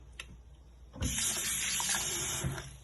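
Ripe salsa tomatoes, just out of a hot water bath, being plunged into cold water in a kitchen sink, with a sudden steady rush of running water starting after a faint clink and continuing loudly to the end.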